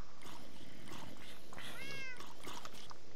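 Cat meowing in the video game Minecraft (Tekkit), a single rising-and-falling meow standing out midway over a busy, noisy game background.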